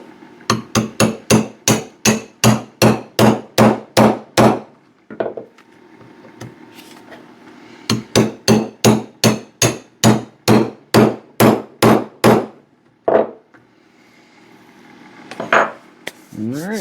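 Steady metal hammer strikes setting copper burrs on rivets of a leather axe sheath, two rapid runs of about a dozen evenly spaced, sharp close blows separated by a pause, with a few scattered taps afterward.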